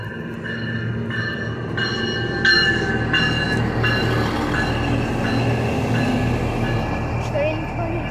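Passenger train 27 rolls past at Santa Rosa, a loud, steady rumble of wheels and rail noise with squealing and rhythmic clicks throughout, close by, while a person speaks briefly over it.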